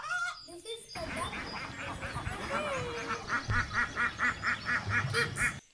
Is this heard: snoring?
no